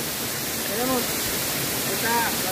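A river flowing along the trail toward the Don Juan waterfall, a constant loud rushing wash with faint voices barely audible beneath it.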